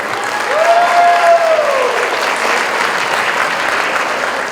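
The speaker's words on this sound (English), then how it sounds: "Another big round of applause for Rajiv" A crowd at the HELP Foundation 25th anniversary event claps loudly for a comedian, a full, sustained burst of applause with a brief whistle-like tone rising through it early on.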